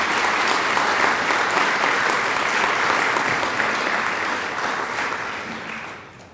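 Applause for a city Board of Architectural Review at the grand opening of an event center: a crowd claps steadily and densely for about six seconds, then fades away at the end.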